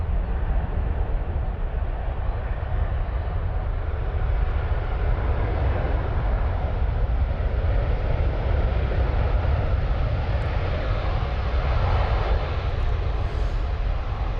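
Boeing 777 or Airbus A330 airliner departing, a steady broad jet roar that holds loud and even throughout with no talk.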